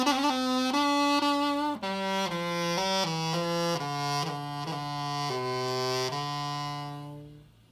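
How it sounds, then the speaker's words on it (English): A douçaine, a medieval double reed instrument of narrow-bored wood, plays solo with a buzzy, reedy tone, a slow stepwise melody of held notes that fades at the close. "this instrument that you see here, this kind of long stick with this very, very narrow hole through the center, is called a douçaine"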